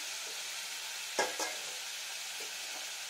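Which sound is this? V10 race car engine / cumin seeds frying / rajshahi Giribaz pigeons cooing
cumin seeds frying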